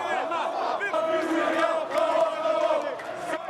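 A protest crowd in Algeria chants a protest song together, many voices singing in unison with a strong rhythmic melody, close and sustained throughout.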